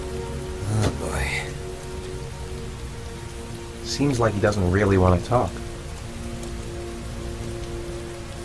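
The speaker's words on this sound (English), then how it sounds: "Heavy rain. It's been the same for weeks." Heavy rain from the video game Heavy Rain falls steadily on surfaces as a constant wash, with a voice talking over it midway.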